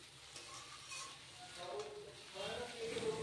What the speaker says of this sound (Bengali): ধনেপাতাটাকে খুব ভালো করে চচ্চড়ির সাথে মিশিয়ে নিলাম